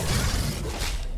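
A burst from an explosive ability in the video game Mass Effect 3 multiplayer, a loud, dense blast with shattering crackle that lasts about a second with no speech over it.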